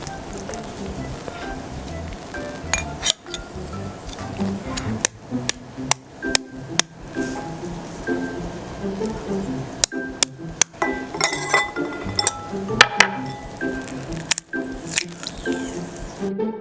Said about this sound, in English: now I'm going to crack the eggs using a spoon